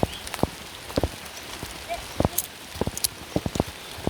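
Rain falling outdoors by the sea in a traditional Baduy village in Banten, Indonesia, heard as scattered sharp drops tapping on surfaces close by, irregular and sparse over a faint steady background hiss.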